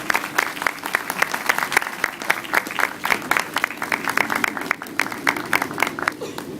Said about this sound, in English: I think we should give all these folks in the tourism and hospitality industry at this time a very nice round of applause